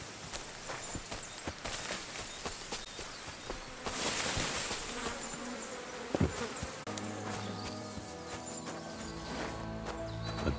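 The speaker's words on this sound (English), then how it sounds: "A horse? What's it doing here in the woods?" In the video game Kingdom Come Deliverance 2, a black horse stands in the woods. Faint hoof clip-clops and footsteps come through a buzzing of insects, with soft musical tones entering later.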